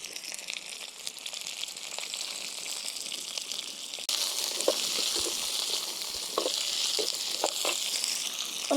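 Ginger, garlic, onion, tomato and curry leaves fry in a pan, giving a steady broadband sizzle that grows louder midway, with intermittent sharp crackles and stirring scrapes close by and no talking.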